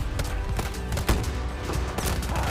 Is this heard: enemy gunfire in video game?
yes